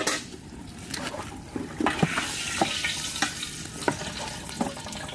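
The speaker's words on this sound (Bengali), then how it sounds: "তুই যত তাড়াতাড়ি বেগুনটা ভেজে দিবি" Eggplant frying in a pan in a village kitchen, a steady close sizzle broken by sharp scraping clicks of stirring, with no talk.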